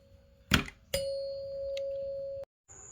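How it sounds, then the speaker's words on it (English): A Eufy wired smart doorbell is pressed during installation: a short click is followed by a single clear electronic chime that rings steadily for about a second and a half, then cuts off abruptly in a quiet room. "you can test it by touching the doorbell, seeing if it rings"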